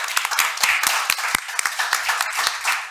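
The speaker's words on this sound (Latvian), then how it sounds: "ar aplausiem pateiksim viņiem paldies!" Applause from the audience thanking panelists at a seminar discussion on a self-excluded persons register and the status of lotteries, with sharp distinct claps from a small group that are close and lively and fill the whole stretch.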